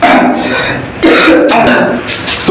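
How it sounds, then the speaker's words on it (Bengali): A person coughs and clears their throat in two rough bursts, close and loud, with voiced rasping between. "আরে কাশি হচ্ছে"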